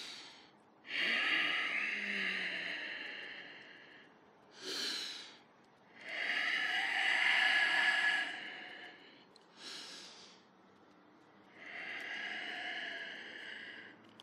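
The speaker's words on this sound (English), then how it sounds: "deep breath." Slow, deep breaths during a morning vinyasa yoga flow, with long airy inhales and exhales in four drawn-out cycles separated by short pauses, close and clear with no talking.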